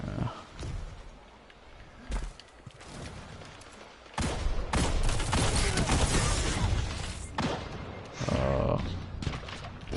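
Gunfire in the video game Destiny 2 during PvP play: a string of sharp shots, sparse at first and then a loud sustained burst of rapid firing with blasts, with no voices in it.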